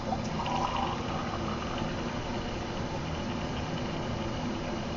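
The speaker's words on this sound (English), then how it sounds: "turn on the cold water so that that's flowing." A cold-water tap runs continuously over a steel tensile dogbone sample in a lab, giving a steady, even hiss of flowing water that holds at one level throughout without any talk.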